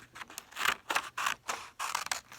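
Scissors snip through paper along a dotted line in several separate close cuts, each a crisp rasping stroke followed by a short pause.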